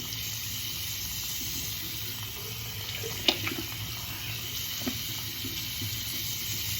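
A tap runs steadily into a sink while a face is wetted before cleansing and makeup removal, a continuous soft hiss of flowing water with a couple of faint splashes, no talking.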